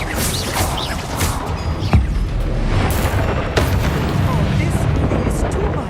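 An Incendio fire spell in Hogwarts Legacy bursts as a loud, roaring blast with crackling booms, a sustained dense rumble filling the whole stretch alongside game noise.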